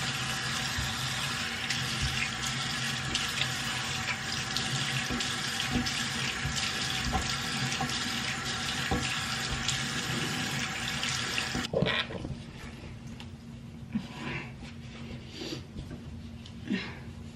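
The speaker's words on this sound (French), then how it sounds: "Fait que je me lave le visage en premier." Tap water runs steadily into a bathroom sink while someone washes their face, a continuous splashing stream that shifts and thins partway through, with brief handling noises near the end.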